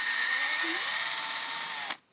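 A cordless impact driver whirs steadily at high pitch for about two seconds while working on an Arrma Outcast 8S RC car's front differential, then cuts off abruptly.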